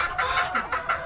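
A Golden Boy Sweater gamecock clucks in a quick run of short, repeated calls, close and moderately loud with no talking.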